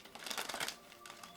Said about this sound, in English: shuffling the cards a little light as I'm over these cards